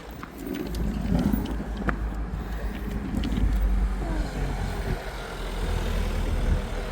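A car approaches on a road beside a coastal path near Port Isaac, a low steady engine rumble swelling gradually amid wind noise, fairly close and with no talk over it.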